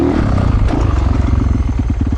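Motorcycle engine revving hard in a sharp throttle blip to lift a wheelie, a loud, close, rough throbbing roar that holds steady throughout.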